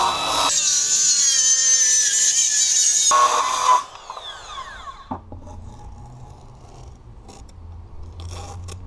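Wood veneer on an old desk, taped with masking tape, is cut along a level used as a straight edge, with a loud rasping, grinding stretch for several seconds, then quieter scrapes and handling sounds.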